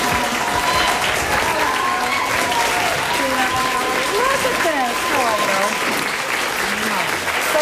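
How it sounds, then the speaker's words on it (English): A television studio audience gives a singer a standing ovation with sustained, loud clapping and scattered cheers and voices rising through the applause for several seconds. "Look at you getting a standing ovation."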